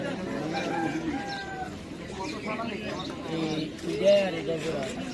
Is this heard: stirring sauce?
no